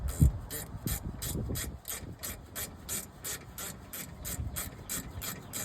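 Ratchet with a T45 bit tightening brake caliper bolts during a rear pad and rotor job on a 2022 Volkswagen Taos FWD, steady rhythmic clicking of the pawl, close and fairly quiet.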